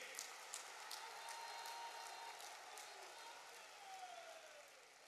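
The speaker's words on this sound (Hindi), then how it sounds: "सब लोग ताली बजा करके इनका अभिनंदन कीजिए।" Audience applause at a government project inauguration, a steady wash of many hands clapping at a moderate distance, with a few sharper claps near the start and a slight fade toward the end.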